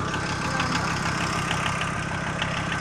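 A Volkswagen T4 Caravelle engine idles steadily, a smooth, even mechanical hum with a faint regular pulse, heard up close with no talking over it.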